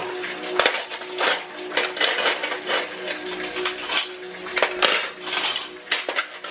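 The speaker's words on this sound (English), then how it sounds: "I'm just taking the little strainer that I have for the wet utensils, and I'm just placing them where they go from the dishes from yesterday." Wet metal utensils clatter and clink as they are lifted from a drying strainer and dropped into place in a kitchen, a close, busy run of sharp jangling hits with brief pauses and no talking.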